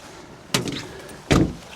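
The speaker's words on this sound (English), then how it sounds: "close the doors" Two van doors shut one after the other with solid thuds about a second apart, close by and outdoors, with no talking.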